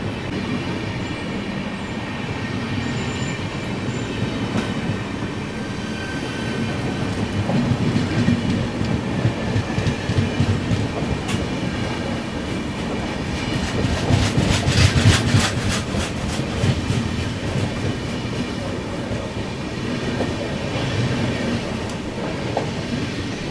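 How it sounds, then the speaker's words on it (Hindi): The New Delhi–Lucknow Gomti Express overtaking, heard from inside a third AC coach of the Vikramshila Express, a continuous loud rumble of wheels and rhythmic clickety-clack swelling as the passing train rushes alongside. "यहाँ देखिए न्यू दिल्ली लखनऊ गोमती एक्सप्रेस हमें यहाँ ओवरटेक कर रही है।"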